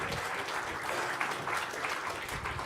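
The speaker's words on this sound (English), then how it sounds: "A big round of applause for our previous speaker." A conference audience at BsidesLV claps for a departing speaker, a fairly soft, continuous patter of many hands heard from a distance in the room.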